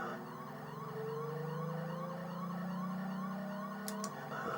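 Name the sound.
police car siren in Amiga video game F40 Pursuit Simulator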